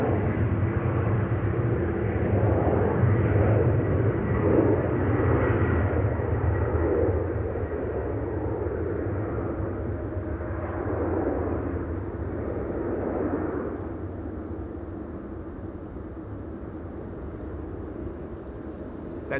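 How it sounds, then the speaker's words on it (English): Distant roar of a KLM Embraer jet taking off from Amsterdam Schiphol toward Frankfurt, a broad steady rumble that swells and slowly fades as the plane climbs away, with no talk over it. "the Embraer in the foreground taking off to Frankfurt, KLM flight 1819"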